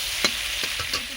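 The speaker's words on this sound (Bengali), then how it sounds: "লাল লাল করে কাঁকড়াগুলো ভেজে নেব" Crabs, shells included, fry in hot oil in a village kitchen with a steady, dense sizzle and a few soft stirring scrapes, close and continuous with no voices.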